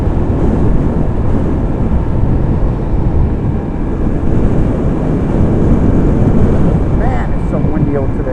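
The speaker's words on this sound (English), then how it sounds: "it's so windy out today." Strong outdoor wind buffeting the microphone during a ride, a loud continuous low roar and rumble that fills the whole stretch, with a voice briefly audible toward the end.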